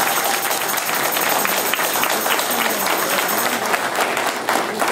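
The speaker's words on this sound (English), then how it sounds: "Let's give the candidates another round of applause." Audience applause at a Ward 5 candidates forum, a steady, dense wash of clapping from a crowd that carries on without pause.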